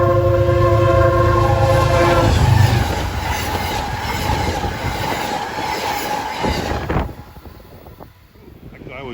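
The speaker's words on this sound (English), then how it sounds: "Here comes Amtrak 284 en route from Niagara Falls, New York to New York City." Amtrak passenger train from Niagara Falls to New York City passing at speed, about 70 mph, with a loud horn blast at first, then a steady rolling roar of wheels and cars that cuts off and fades near the end.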